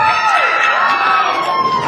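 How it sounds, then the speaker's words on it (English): Wrestling fans at an NWA Atlanta six-man tag match cheer loudly and steadily for Monster Payne, a dense crowd roar with shouts and whoops carrying throughout. "Fans cheering on Payne here, wanting Michael Stevens to get his due."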